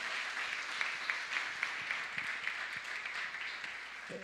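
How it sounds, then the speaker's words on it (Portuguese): A church congregation applauds the worship ministry during a conference session, with dense, even clapping throughout and a few louder individual claps standing out. "Quero que você dê um aplauso a Deus pela vida do Ministério de Louvor do Projeto Vida."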